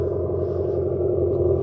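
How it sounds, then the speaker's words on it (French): Abarth 500e electric car playing a synthetic combustion-engine sound through an external speaker: a steady, low, droning rumble held at even loudness throughout, close by, with no talk over it. "qui reproduit le son d'un moteur thermique"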